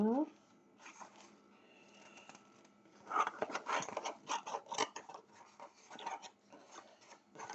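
Scissors snip through a 3D foam sheet in a quick run of close, crisp cuts after a short voice at the start, then a pause and more cutting.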